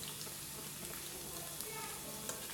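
Rice pakoda bits fry in hot oil with a steady, soft, even sizzle and small crackles that hold all the way through, with no one talking.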